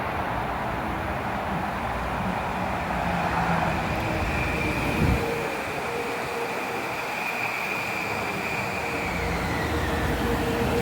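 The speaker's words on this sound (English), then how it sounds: "there's a Greenwich train coming here" A New Haven Line train pulling into Larchmont station, a steady broad rumble with a faint high squeal running throughout, loud and continuous with no voices.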